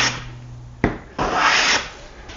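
A wood edge being chamfered by hand with a rasp-like tool, close and fairly loud, one short scraping stroke followed by a sharp knock and a longer steady rasping stroke.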